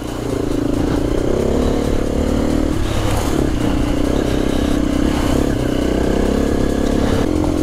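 Enduro motorcycle ploughing through wet mud, its engine droning loud and steady throughout with constant clatter and splashing mixed in.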